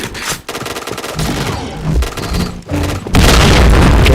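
Booming grenade blast and rapid gunfire from the online shooter PointBlank, loud and dense with continuous firing bursts, a brief dip, then a heavy explosive roar at the end.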